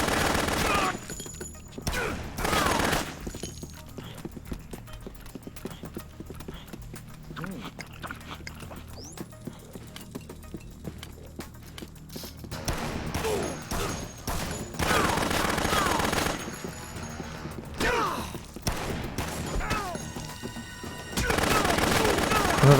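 Gunfire in the Dead Rising video game, heard as bursts of rapid shots between quieter stretches, with someone talking over parts of it.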